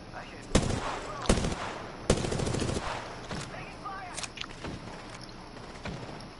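Gunfire in the Apex Legends battle royale game, with several sharp shots spaced a second or so apart against steady in-game ambience, moderately loud and fairly close.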